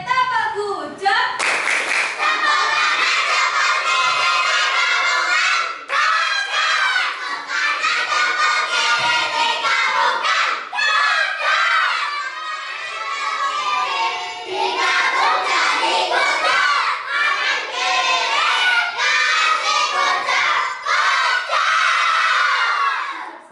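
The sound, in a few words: children's clapping chant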